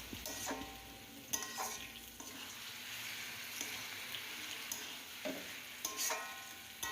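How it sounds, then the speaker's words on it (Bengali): A fish-head and cabbage curry sizzles steadily in the pan after half a teaspoon of garam masala goes in, with repeated scraping strokes of a spoon stirring it through a continuous frying hiss. "হাফ টিস্পুন মতো গরম মশলা পাউডার দিয়ে খুব ভালো করে আমি নেড়ে চেড়ে নিচ্ছি।"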